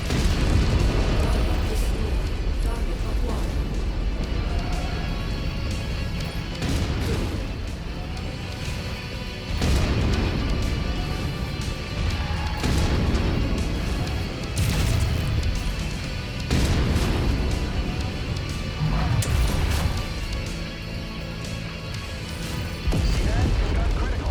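Mechs exploding in the MechWarrior 5 video game, repeated heavy booms and crashing blasts amid constant weapon fire and rumble, loud and dense, with someone talking over it.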